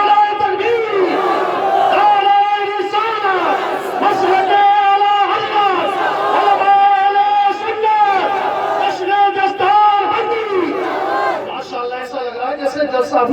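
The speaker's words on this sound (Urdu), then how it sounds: "ہاتھ اٹھا کر سارا مجمع نعرہ تکبیر" A large gathered crowd at a religious gathering answers with the takbir slogan, many voices chanting together loudly and continuously in rising and falling waves, filling the whole stretch.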